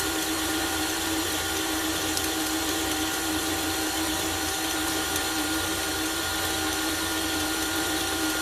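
An electric mixer whirs steadily through banana bar batter, a continuous motor hum close by with no voices.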